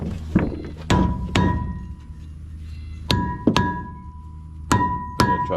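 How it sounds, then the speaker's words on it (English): Sharp metallic hammer blows strike a rusty rear brake rotor on a 2003 Hemi Ram 1500, coming in quick pairs with pauses between, each clang ringing briefly, close and loud with no talk. "Try to knock some of that rust loose in there."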